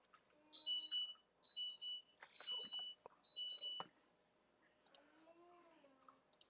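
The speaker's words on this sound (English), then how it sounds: "Had a little alarm go off on myself." A small electronic alarm beeps in several short bursts of high chirps with clicks between them, faint and close, followed by a brief voice.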